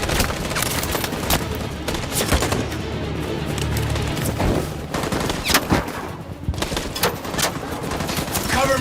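Gunfire in Detroit: Become Human, dense bursts of automatic shots and single cracks rattling continuously at close range, with a few deep booms mixed in.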